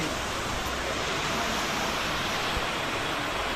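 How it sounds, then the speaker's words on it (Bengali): Rain falls in an outdoor city setting near a Kolkata railway station as a dense, even hiss that stays constant and fairly loud throughout. "আর বৃষ্টি চালু হয়েছে"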